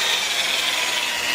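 A drill spins a cylinder hone inside engine cylinders to break the glaze, giving a steady, close, bright whirring scrape with a constant level and no pauses.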